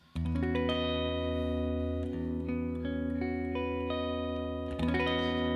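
A clean, twinkly electric guitar rings out an E6/9 chord, strummed once and left to sustain, then restruck near the end, alone and close with no talk.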